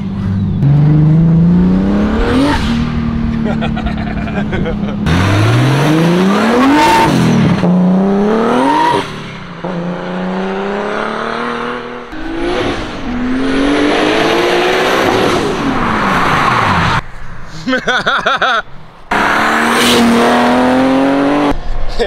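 A Toyota AE86 driven hard, its engine revving up and dropping repeatedly through gear shifts, with one fumbled shift into third, loud and close with brief gaps between pulls.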